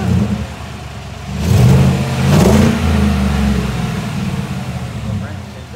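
A black truck fitted with a cat-back exhaust revs up, its deep engine note climbing and holding for a couple of seconds before settling back toward idle, loud and close.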